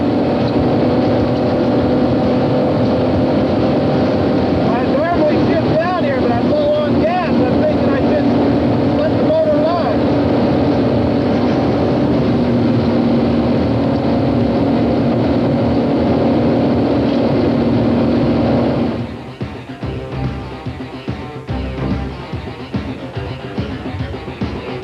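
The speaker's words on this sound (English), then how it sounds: "Ferrari's racing heritage shines in the suspension, and Cole pushes it to the limit" A Ferrari sports car races through canyon turns at high speed, its engine a loud sustained roar with shifting pitch, then easing off into rougher, lower rumble near the end.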